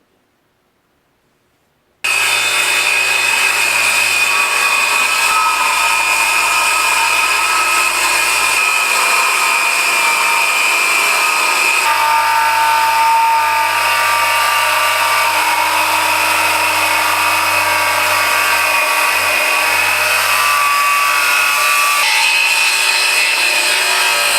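A RYOBI 18V One+ 7.25-inch cordless circular saw starts after a short silence and cuts wood with a loud, continuous, close whine lasting about twenty seconds.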